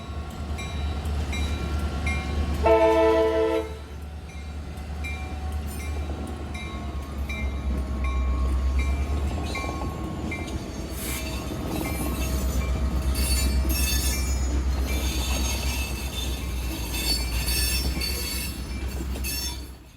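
A CSX local freight train, the L810, rolls past near Rockmart on its return run to Cartersville. A steady, loud rumble of wheels on rails carries high squeals and a brief tonal blast early on.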